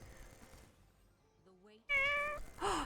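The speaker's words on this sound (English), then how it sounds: "We got a kitten." A kitten gives a couple of short, high meows, loud and close, after a quieter stretch with faint tonal sounds.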